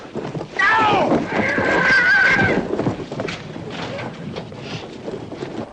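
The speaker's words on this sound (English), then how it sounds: "Rosalind, shut up and pull that horse down." A horse whinnies loudly with rising and falling squeals in a chaotic film scene, with hoof clip-clop and shouting voices around it throughout.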